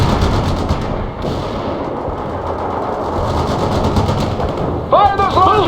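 Continuous battlefield gunfire from the real-time strategy game World in Conflict, dense and steady machine-gun and rifle fire with a rising whine near the end and a clipped game voice over the din.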